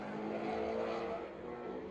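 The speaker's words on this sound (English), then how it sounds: "John Kinman boots that car out of the hairpin there" A race car at the Knockhill circuit hairpin during an SMRC Classics race, engine note loud and steady as it powers away, with a faint voice underneath.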